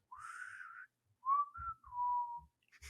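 A person whistles a short, slow melody, clear and close, a few sustained notes with brief pauses between them.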